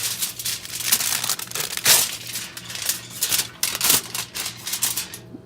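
Scissors cut a sheet of tin foil in half, giving a close run of crisp crinkling snips and rustles with a few sharper crunches, alone and without talk.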